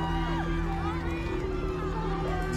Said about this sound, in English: People are screaming, this is crazy.